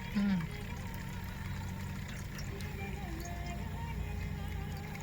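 Water drained off washed rice while cooking khichdi pulao, a steady continuous pouring rush close by with a brief louder splash at the start.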